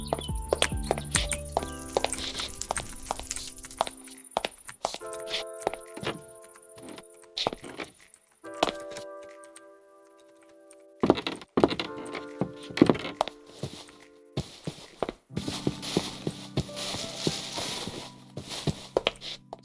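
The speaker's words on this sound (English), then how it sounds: "So that's what Presence Footsteps sounds like." Footsteps of a Minecraft character with the Presence Footsteps mod: a steady run of soft thunks and clip-clop-like steps, fairly close, with short pauses and changing surfaces, no talk.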